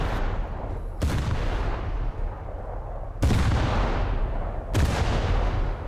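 Heavy naval gunfire from the HMS Leopard (F14) frigate in War Thunder naval battle, three loud, booming cannon shots spaced a second or two apart, each with a long rumbling decay, over steady engine and sea ambience.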